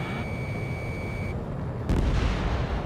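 A missile striking and destroying an enemy ground target in Ace Combat 7, heard as a dull low boom bursting out near the end over a steady jet engine roar and a fading warning tone.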